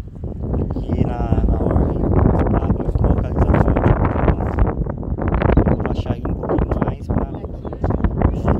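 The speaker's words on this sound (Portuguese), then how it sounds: "E tá ventando bastante, hein, pessoal?" Strong wind buffets the microphone outdoors near a shoreline while a DJI Mavic Mini drone flies, a loud continuous rumbling gust noise with a person talking over it throughout.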